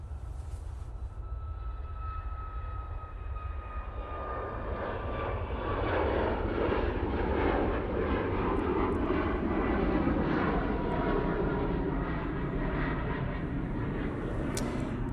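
A passenger jet departs Manchester Airport bound for Tenerife, its engine roar building from a distant whine into a loud, sustained rumble that peaks and holds, with no talk over it.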